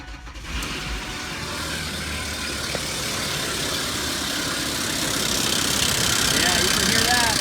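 A Ford Explorer 4.0 engine with a badly worn timing chain idles, a continuous mechanical rattle and clatter under a steady engine drone that grows slightly louder toward the end.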